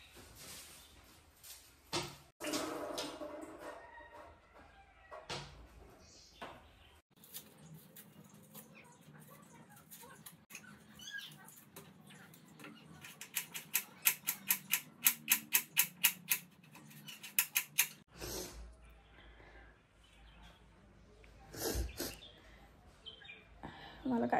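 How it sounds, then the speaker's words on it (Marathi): Onions and other vegetables chopped quickly on a board, with a fast run of sharp, evenly spaced knife taps in the middle and scattered kitchen handling sounds before and after, close by. "मी पटापट कांदा वगैरे सगळ्या भाज्या कापून घेते"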